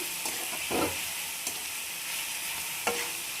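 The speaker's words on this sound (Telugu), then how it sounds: "మూత పెట్టి కలుపుకుంటూ ఉండాలండి. ఇలా కలుపుకుంటూ ఉంటే అవి మగ్గుతూ ఉంటాయి." Ivy gourd (dondakaya) being stirred in a frying pan, with a few short scraping strokes and a soft sizzle underneath, close and fairly quiet, no voices.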